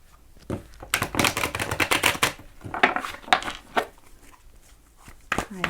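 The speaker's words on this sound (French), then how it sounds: "Mélanger les cartes." Tarot cards are shuffled by hand in a quick, close run of crisp riffling slaps and flutters that come in bursts with short pauses between them. No voice is heard.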